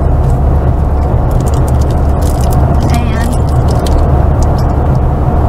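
A car drives along a highway in Georgia, with a constant loud rumble of road and engine noise and people talking inside over it.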